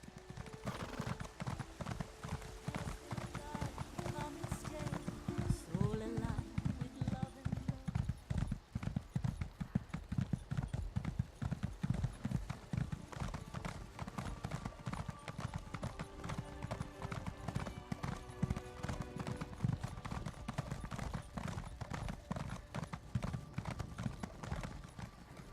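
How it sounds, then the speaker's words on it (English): Horse hooves clip-clop in the video game The Elder Scrolls Online: Summerset, a fast, steady, close trotting rhythm that continues throughout. "Come on, stupid horse."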